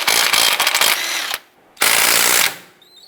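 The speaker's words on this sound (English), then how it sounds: "Using a 21mm socket, you want to go ahead and remove this bolt here" Ratchet wrench with a 21mm socket loosening a front brake caliper bolt on a 2002-2007 Jeep Liberty, two loud bursts of rapid clicking close up, separated by a short pause, with no talk.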